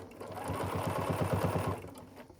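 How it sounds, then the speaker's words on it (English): A sewing machine stitches around the edge of a quilted Christmas stocking in one short, steady run of rapid, evenly spaced stitches, close and moderately quiet, then stops. "So then I just take my time and sew around here."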